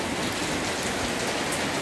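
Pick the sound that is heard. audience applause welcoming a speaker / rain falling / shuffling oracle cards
rain falling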